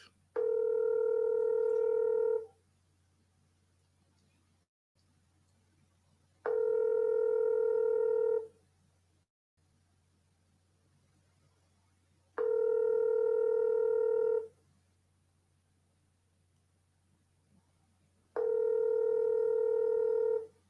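A telephone call rings unanswered: four long, loud tonal ring bursts, each about two seconds, come at a steady interval with faint hum in the quiet gaps.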